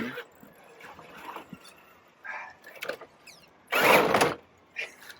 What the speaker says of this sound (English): My servo doesn't want to turn.